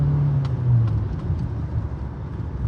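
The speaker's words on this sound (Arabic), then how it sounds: "اسمع صوت الموتور" A car engine idles nearby with a steady low hum and slight rise in revs, no talking over it.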